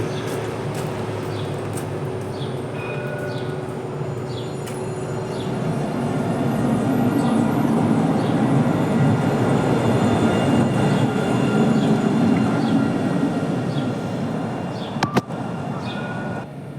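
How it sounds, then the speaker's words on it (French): A Montpellier TAM line 3 tram arrives at a station, its rolling rumble building and holding close and loud, with faint squeals and a sharp clunk near the end. "Il y a une rame qui arrive de l'autre côté."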